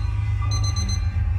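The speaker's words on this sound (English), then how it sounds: "I want this alarm clock to stop right now" An electronic alarm clock in the game Lullaby For An Electric Toaster rings with a brief rapid pulsing high beep over a loud constant low hum, no talking.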